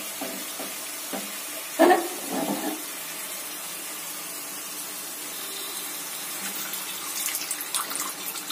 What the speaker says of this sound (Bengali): মশলাটাকে ভালো করে কষানোর জন্য আমি এবার একটু জল দেব, অবশ্যই গরম জল।